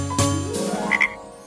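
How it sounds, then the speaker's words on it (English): Cartoon frogs croak in a short burst of two or three loud, close calls, one rising croak followed by a brief pair of squeaky notes, with no talk. "2 frogs jumping up and down, 2 frogs I can count."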